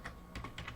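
A computer keyboard is typed on in a brief, close burst of a few soft keystrokes, quiet and alone.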